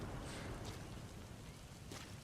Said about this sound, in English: It's fitting the rain.